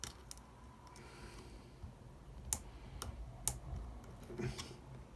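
A plastic pry tool clicks up iPhone 6 connectors during a battery replacement: a few faint, sharp, isolated clicks spaced apart in an otherwise quiet room.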